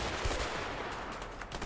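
Continuous gunfire in the game A Way Out, a dense unbroken stretch of rapid shots, close and steady, with no talk.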